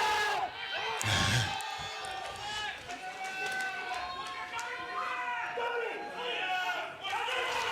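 A large crowd of Czech fans packed around a bobsleigh start during a four-man World Cup heat in Altenberg, cheering and shouting loudly throughout, with a commentator talking over the roar.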